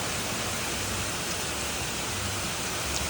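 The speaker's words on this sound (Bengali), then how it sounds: "বৃষ্টি চালু হয়ে গেল দেখো পুরো ঝমঝমিয়ে বৃষ্টি পড়ছে" Dense, even hiss of heavy rain pours down continuously, loud and unbroken, with no voices.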